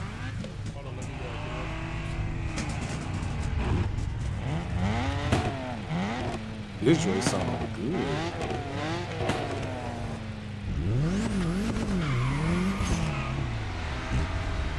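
Racing car engines in The Crew Motorfest video game rev and wind up and down repeatedly, with pitch sweeps and tire squeal, under near-constant talk from players.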